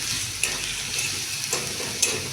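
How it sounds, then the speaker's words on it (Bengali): A paste of ground onion, chili and ginger sizzles as it fries in a pan, close and steady, with a few sharp scrapes of a spoon stirring it at intervals and no talking. "এবার মশলাটা একটু ভাজা হোক।"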